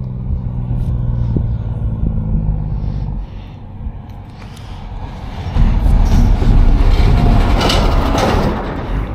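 A road train truck hauling two full-size trailers rolls past beside an irrigation channel, its deep rumble and road roar swelling loudly partway through and staying heavy to the end.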